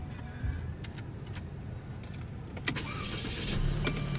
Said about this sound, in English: And what you're hearing there is a 2-liter turbocharged 4-cylinder.